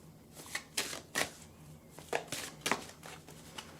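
An oracle card deck is shuffled in a few quick riffling bursts and soft slaps, close and quiet, with no talking.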